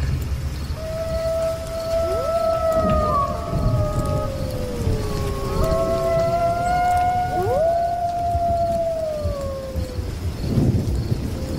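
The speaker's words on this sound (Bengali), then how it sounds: "শুধু বৃষ্টির শব্দ আর দূরে শিয়ালের হুক্কা হওয়া ডাক।" Jackals howling in the distance, several long, wavering howls that rise, overlap and fall away in succession over a low, steady ambient rumble, with no voices.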